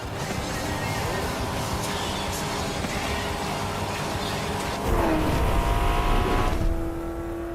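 Race cars roar through the high-octane Horizon race events in the video game Forza Horizon 5, with engines revving and tires squealing beneath a talking voice.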